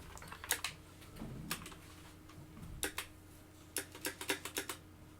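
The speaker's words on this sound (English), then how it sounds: "Oops, there's my keyboard." Quiet clicks of a computer keyboard being typed on, scattered single taps and short bursts of keystrokes against a low background hum, with no talking.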